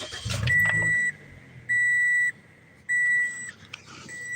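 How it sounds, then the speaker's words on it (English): A car starts with a brief low rumble of the engine, followed by three evenly spaced electronic dashboard chimes ringing out clearly in a quiet cabin. "give me a second while I start my car"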